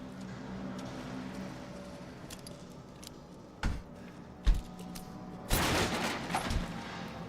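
Gunfire in the video game Resident Evil Village: a few sharp single shots spaced apart over a low game ambience, then a louder burst of blasts near the end.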